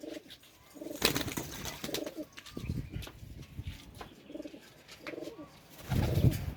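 Pigeons coo repeatedly nearby in soft, rounded phrases, with rustling and shuffling sounds between the calls.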